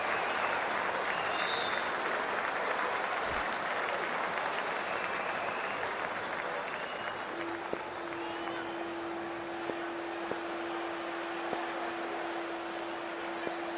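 A stadium crowd in the cricket video game Cricket 24 applauds steadily at an IPL match between Gujarat Titans and Rajasthan Royals, a dense even wash of clapping that carries on throughout, with a soft tone entering partway.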